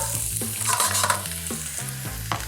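Carrots fry in peanut oil in a hot pan, a loud, dense sizzle that runs throughout, with stirring scrapes and clicks punctuating it at close range.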